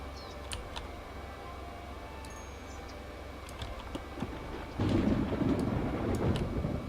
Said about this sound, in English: we might be listening to thunder instead of gameplay.